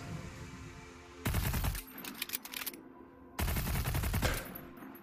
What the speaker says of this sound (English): Just pull up the big gun.